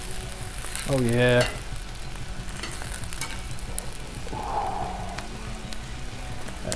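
Bratwursts fry on a Blackstone griddle, a steady close sizzle and crackle running throughout, with a brief spoken remark and a few clanks of a spatula over the frying.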